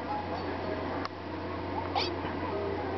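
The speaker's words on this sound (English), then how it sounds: "let's give this piece to Meowth." A Meowth cry from the Pokémon-Amie feeding mode of a Pokémon video game: a short, bright cat-like meow sounds once over a faint game background hum.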